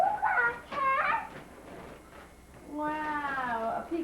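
A domestic cat gives two short meows near the start and a longer drawn-out meow later, close by, with quiet room noise between.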